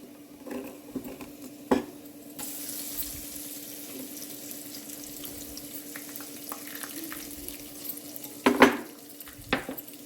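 Peanuts fry in oil with a soft, steady crackle and hiss, broken by a few louder clanks and scrapes of a utensil against the pan, close by and without speech.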